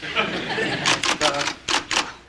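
Rapid clacking keystrokes from an electric typewriter come in a quick burst of sharp, close taps with brief pauses, loud against a quiet room.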